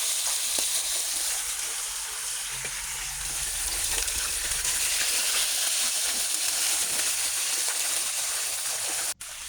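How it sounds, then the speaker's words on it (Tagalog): Tilapia fish fry in hot oil with a continuous, bright crackling sizzle that stays loud and even throughout, close up and without voices, ending in a brief sharp clack. "Unahin natin prituhin yung mga tilapia"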